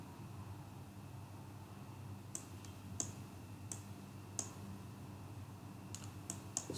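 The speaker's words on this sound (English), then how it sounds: "double click on it, select the profile" A computer mouse gives a handful of crisp, quiet clicks, some in quick double pairs, over a faint steady background hiss while working in Tekla Structures modeling software.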